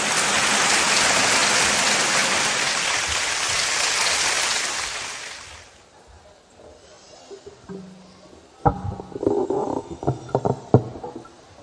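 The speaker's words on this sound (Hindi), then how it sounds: "एक बार गोविंद राठी के लिए जोरदार तालियां बजाकर आप उसका स्वागत करें।" An audience at a Kanpur poetry gathering applauds to welcome a poet to the stage, with dense, loud clapping for about six seconds that then stops abruptly, followed by quieter scattered rustles and thumps.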